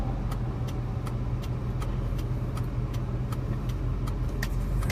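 A car driving in slow circles, a steady low engine rumble and road noise heard from inside, with faint periodic ticking or jangling over the drone.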